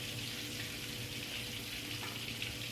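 Pieces of Thai sour fish (pla som) deep-frying in hot oil, a dense continuous sizzle and crackle, close and steady with no talking.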